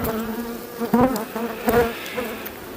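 Honeybees buzz close to the microphone around an open hive being worked to make an artificial swarm, a steady droning hum with individual bees swelling louder as they fly past, and no talking.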